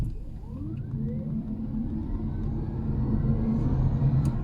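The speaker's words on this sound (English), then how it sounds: "Let's just floor it." A 2023 Nissan Leaf e+ electric car accelerating at full throttle from inside the cabin: a low road rumble with a faint motor whine rising steadily in pitch, building gradually over several seconds.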